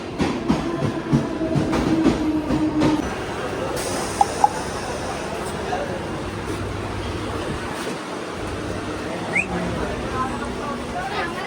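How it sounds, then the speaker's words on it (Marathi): A suburban train bound for CST rumbles along the rails, with a steady low roar, brief clatter and a couple of sharp metallic clicks, voices faintly audible early on. "आली ती पण ट्रेन आली"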